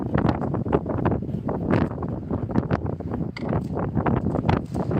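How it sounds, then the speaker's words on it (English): Gusty wind on Fenit Pier buffets the microphone in uneven bursts, rising and falling loudly in an open outdoor space. "It's definitely windy today."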